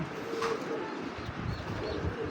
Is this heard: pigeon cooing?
yes